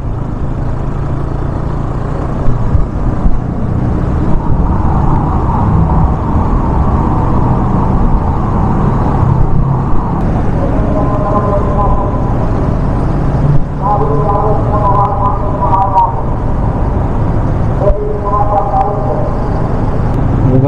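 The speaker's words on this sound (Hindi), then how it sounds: "This is tunnel number 11." Vehicles rumble and drone through road tunnel number 11 on a Ladakh route, a loud continuous reverberant roar with engine tones rising and falling and brief thumps, while a voice makes announcements over it.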